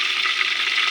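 Food frying in a pan for a home-cooked lunch, a steady, close hiss of sizzling oil that holds without a break through the short moment, with no voices.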